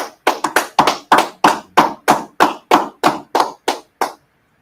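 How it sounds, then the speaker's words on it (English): About a dozen sharp hand claps in a steady, evenly spaced rhythm at a class gathering, close and loud, alone, with the last claps fading and then silence. "All right, clap it up."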